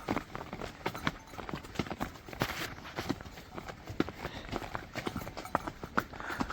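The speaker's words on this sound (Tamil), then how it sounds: "இதை பாருங்க இந்த குதிரையை" Horse hooves clip-clop steadily on a snowy mountain route in Kashmir, a continuous run of irregular close steps with some faint background noise.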